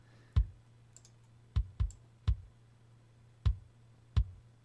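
Six punchy kick drum hits at an uneven rhythm, blended from inside and outside kick mics, each a deep low thump with a sharp click on top, over a steady low hum.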